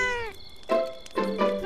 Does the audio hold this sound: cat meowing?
yes